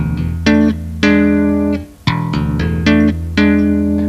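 Bass guitar tapping passage with plucked double-stop hammer-ons and slapped notes, several sharp attacks in a rhythmic pattern with ringing harmonic tones, loud and close, no talking.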